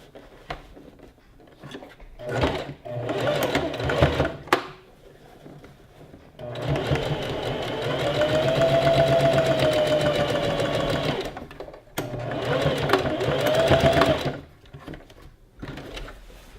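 Sewing machine stitching the waistband of a gathered skirt, with short bursts of rapid mechanical whirring, then two longer sustained runs separated by pauses with handling clatter, close and fairly loud.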